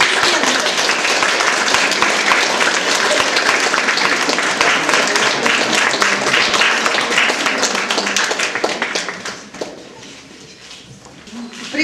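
Students and guests at an art school plein-air opening applaud in a loud, dense burst that holds steady, then thins out and fades toward the end.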